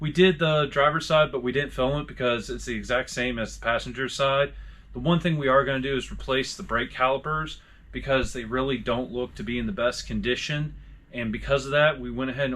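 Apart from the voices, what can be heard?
No distinct noise like a dog, phone or traffic.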